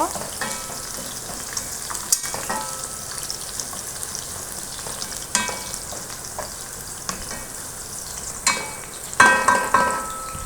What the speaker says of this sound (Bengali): আদা রসুনের সাথে কাঁচামরিচ ভালো করে ভেজে নিব।